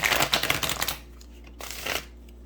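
Tarot cards being shuffled by hand, a burst of crisp riffling and flicking for about a second, then quiet room tone and a brief second rustle of cards, close and clear.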